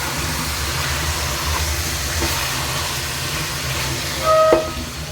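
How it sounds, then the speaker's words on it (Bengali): Marinated beef sautéing in a pan with potatoes gives a steady, dense sizzle and hiss throughout, with a low rumbling undertone and a short sharp clatter or squeak near the end. "মাংসগুলো ভালো করে কষিয়ে নেব"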